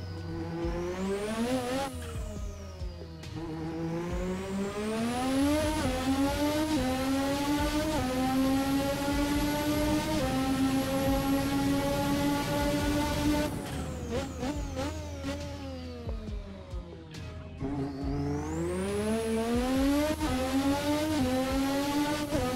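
A sim racing car engine in a video game, loud and up close, climbing and falling through the revs under power with sharp gear changes and rapid blips midway before surging again.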